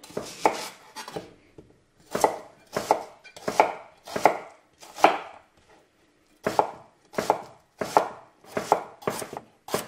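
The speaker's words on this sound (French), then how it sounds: "On coupe les carottes en rondelles." A knife chops carrots into rounds on a wooden cutting board, sharp close rhythmic thuds in quick bursts separated by short pauses, with no voices.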